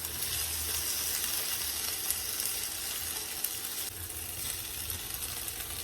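Potatoes and carrots sautéing in a pan for corned beef kaldereta, a steady, close hiss of frying and sizzling with faint stirring scrapes, continuous throughout with no one speaking.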